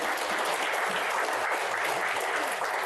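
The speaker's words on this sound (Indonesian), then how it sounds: "tepuk tangan untuk Pak Jaksa Agung" A studio audience at a Q&A show applauds in a dense, continuous patter of many hands, steady and moderately loud with no talk over it.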